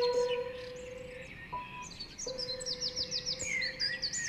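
Birds chirp and twitter on a piano in a children's story sound effect: quick, bright high chirps that bunch into a fast run near the end, over a steady thin tone that stops and starts.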